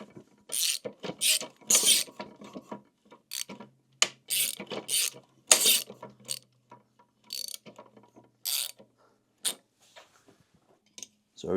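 A 2013 Kawasaki KX250F motocross engine, which has a no-start fault, is turned over by hand, counterclockwise, with a screwdriver. It gives bursts of close ratcheting mechanical clicks in an uneven rhythm, with short pauses between turns.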